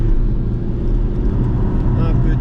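A Porsche on a racing circuit with throttle applied, a loud, steady engine drone with road and wind rumble, while a coach talks over it.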